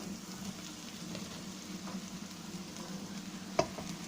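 Quiet, steady sizzling of mushrooms frying in masala in a pan while cooking mushroom butter masala, a soft continuous crackle with one sharp clink near the end.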